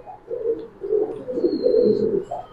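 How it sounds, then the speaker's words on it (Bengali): Golden Pakistani pigeons give a steady run of low, throaty coos, close and fairly loud, with a faint higher bird note drifting behind and no voices. "গোল্ডেন পাকিস্তানি কবুতর কিন্তু থাকবে"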